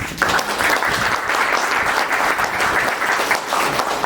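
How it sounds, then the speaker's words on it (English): An audience claps for a museum curator at a special exhibition opening on the Jewish Orphans' Home of New Orleans, a loud, dense and steady round of applause from a room of people, sustained for about four seconds. "We can clap for him."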